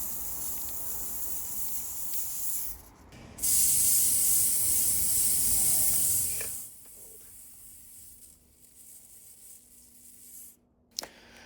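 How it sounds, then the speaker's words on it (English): Black spray paint hisses from an aerosol can in bursts, a loud airy spray with a short pause, then a long sustained blast that stops abruptly, leaving quiet room noise. "And then I can get to spraying in a very haphazard manner."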